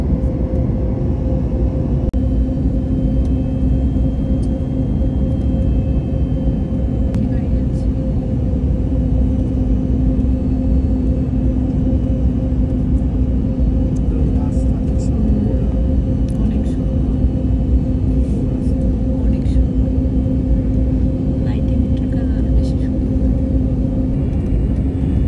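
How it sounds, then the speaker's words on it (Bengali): Steady loud airliner rumble with a low engine drone as the plane touches down and taxis after a night landing in China, continuous throughout. "আমাদের হ্যাপি ল্যান্ডিং হয়ে গেল"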